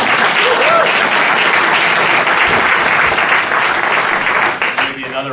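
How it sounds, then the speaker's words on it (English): Audience applauding loudly at a theater dedication, sustained clapping with some crowd noise and voices mixed in, easing slightly near the end as a voice begins. "Maybe another round of applause"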